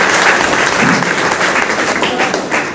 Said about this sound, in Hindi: तो आप सभी लोगों के लिए एक जोरदार ताली होनी चाहिए